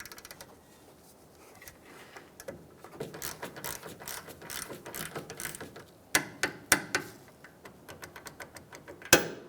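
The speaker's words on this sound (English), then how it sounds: "And now our top link will get torqued down to 35 foot-pounds." A ratcheting wrench tightens the top suspension link on a 2007-2015 Mazda CX-9 during a CV axle job, with rapid ratchet clicks followed by several louder sharp clicks near the end; close up, no talking.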